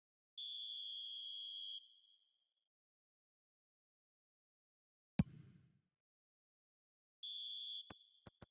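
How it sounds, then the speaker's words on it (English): A referee's half-time whistle in the eFootball video game sounds as a long, shrill, steady blast. After a sharp click comes a second long blast, then a couple of short ticks, all with no commentary over them. "And there is the half-time whistle."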